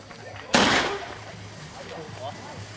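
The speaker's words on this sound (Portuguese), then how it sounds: "Aprenda como nunca acender um foguete." A single sharp bang from an exploding firework rocket at a Christmas celebration in Adrianópolis bursts out with a hissy crackling tail that fades over half a second, while people murmur and talk in the background.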